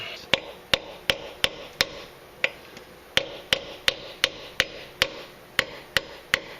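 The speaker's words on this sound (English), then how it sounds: "smack it with a hammer and a screwdriver" Sharp metallic strikes ring out one after another, a steady series of hammer blows on a screwdriver knocking out a seal on a Saturn L-Series automatic transmission, close and loud with brief pauses between groups.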